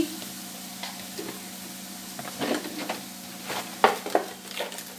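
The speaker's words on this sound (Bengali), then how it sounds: "হালকা একটু জল দিয়ে দিচ্ছি আর একটু হলুদ দিয়ে দিচ্ছি" Water and turmeric go into a pan of bean-seed dal, giving a soft sizzle with scattered scrapes and light knocks of stirring that rise into a few sharper clinks toward the end.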